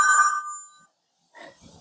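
A telephone rings once, bright and loud, then stops, with faint indistinct talk starting afterward in a home kitchen.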